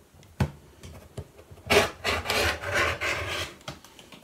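Scissors or a rotary cutter slicing through old t-shirt fabric to even up an edge, giving a soft rasping, rubbing cut that rises and falls over a few seconds, close and fairly quiet, with no talking.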